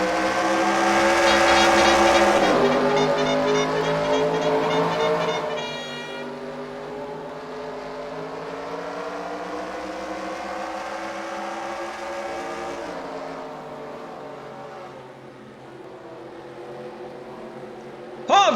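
Race cars in a field roar toward the green flag at a bullring oval, engines droning loud and close before the pack pulls away into a steadier, fainter hum, with an announcer talking over it.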